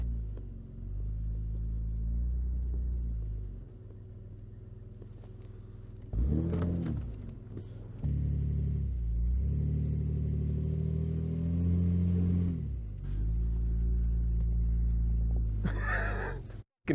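An all-wheel drive truck engine revs and rumbles on a snowy incline with one tire in snow, a steady low drone rising in surges with brief louder bursts, close and continuous.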